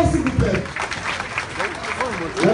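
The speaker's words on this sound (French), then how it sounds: "On applaudit très fort, s'il vous plaît." Clapping rises for a Nigerien ambassador at a women's day event in the USA, with a voice speaking over the moderate applause that ebbs and returns through the brief stretch.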